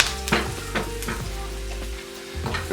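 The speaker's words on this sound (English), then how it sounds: "I'm just going to cook this until it really gets fragrant and the onions start to release some of their sugar." Onions and paprika fry over medium heat in a pan, a steady close sizzle broken by several stirring scrapes and clicks of a utensil against the pan.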